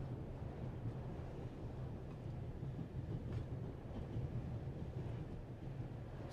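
A moving train rumbles steadily in the video game The Raven, with a constant low mechanical drone and faint rattling that carries on evenly throughout.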